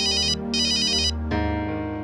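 A phone ringtone plays loud and close in repeating electronic bursts, two rapid trilling rings followed by a sustained tone, with no talking.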